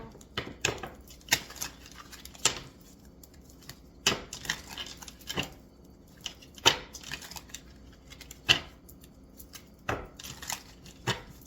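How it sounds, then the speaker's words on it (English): Tarot cards are shuffled in a series of crisp, sharp riffles and slaps at irregular intervals, close and clear against a quiet room. "Let's give this stuff a little shuffle."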